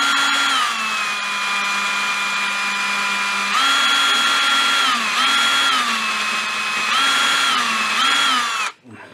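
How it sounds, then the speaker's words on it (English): A drill bores a 10 mm hole near the edge of a plastic telephone dial on a 1938 Healing 448E set. It makes a loud, close, steady whine that rises and falls in speed several times before stopping abruptly. "I have to drill a 10mm hole here, so I need to be really careful because it's close to the edge here."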